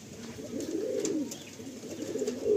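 Pigeons kept for sale near New Garia railway station in Kolkata give soft, rolling coos, close and fairly quiet, a few overlapping throaty calls over a faint background hiss with no talking.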